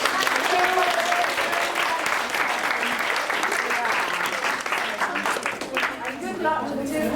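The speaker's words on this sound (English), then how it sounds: "And round of applause." An audience at a book event for the novel All The Truth That's in Me breaks into a sustained, dense round of applause that stays loud throughout, with some voices mixed into the clapping.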